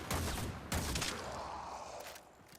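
Pistol gunshots from the game Warframe, fired from Captain Vor's pistol: two loud, sharp blasts about half a second apart, each trailing into a ringing, fading tail.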